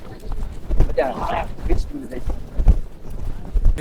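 Horses' hooves clip-clop on the pilgrimage trail to Kedarnath, a scatter of close hoofbeats under someone talking loudly nearby.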